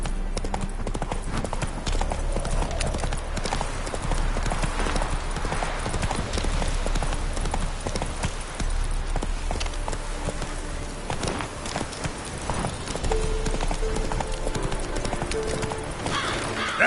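Roach, a horse in The Witcher 3, clip-clops along at a steady, quick pace, hooves drumming close and continuous throughout with an occasional whinny and game music beneath.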